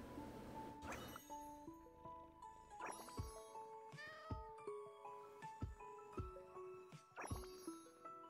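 Cat meowing in a video game that has a petting tutorial, several meows spread over the clip with short clicks and tinkles, fairly close, over a steady bed of game music with no talk.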